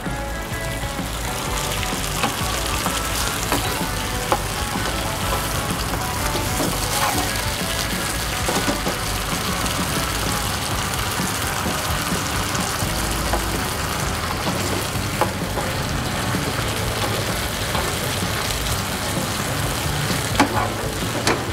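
Beef stir-frying in a wok for Sichuan beef gives a loud, steady sizzle with bursts of stirring and scraping throughout, and no voices.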